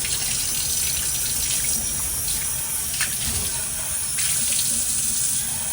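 Water runs steadily from a tap into a dog's water dish, a continuous loud gushing splash throughout with no talking.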